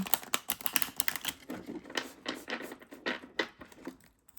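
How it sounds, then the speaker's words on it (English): Quick rapid clicks and flutters of cards being shuffled, close by, in short bursts that fade toward the end, with no voices. "I'm just going to shuffle them."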